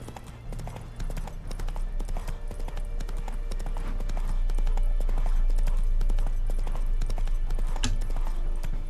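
Hooves of Roach, a horse in The Witcher 3: Wild Hunt, clip-clop in a steady trotting rhythm, loud and close over game ambience and music.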